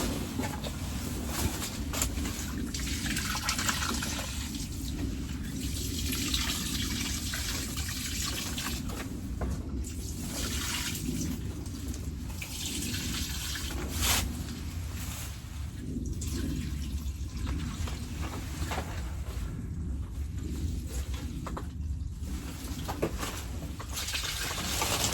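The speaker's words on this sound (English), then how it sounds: "So I'm just gonna water everything quickly." Water pouring from a watering can onto garden plants while the garden is readied for winter, a continuous splashing and trickling stream that runs steadily throughout at moderate loudness.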